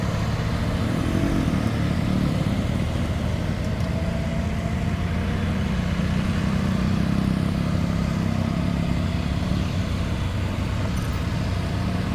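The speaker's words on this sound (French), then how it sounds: "La moto qui ouvre la voie" A motorcycle engine drones continuously at a steady pace, close by, with road rumble and wind noise throughout.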